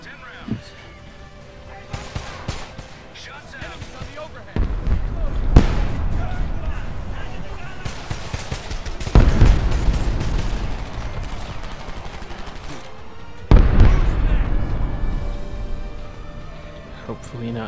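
An artillery barrage of DPICM rounds in the video game Homefront lands as three heavy, booming bursts of impacts, each trailing into a long rumbling roll of scattered explosions.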